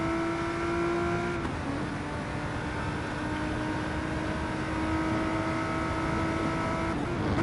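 A race car engine screams at high revs on a hot lap in the video game GT Sport, holding a steady sustained whine that drops briefly as the car shifts, then climbs and pulls hard again.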